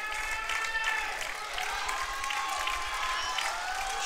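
An indoor arena crowd at a European judo open in Prague cheers and applauds for a home fighter, a steady roar of voices and clapping with whistles and shouts rising above it.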